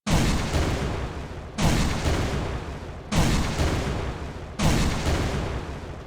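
A rocket launcher fires in the video game Project Speedkills: four heavy, evenly spaced booming blasts, each with a long rumbling decay, loud and alone.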